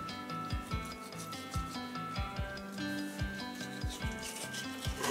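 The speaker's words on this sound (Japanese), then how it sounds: "薄皮を剥がしていきますね" A knife held flat against a cutting board slides along to peel the thin skin off a fish, making close, repeated rhythmic rubbing and scraping strokes at about two per second, with no talk.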